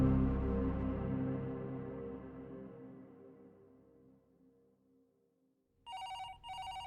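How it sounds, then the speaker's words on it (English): A fading low ringing tail dies away into near silence, then a telephone bell rings twice in quick electronic bursts, clear and close. "the phone rang"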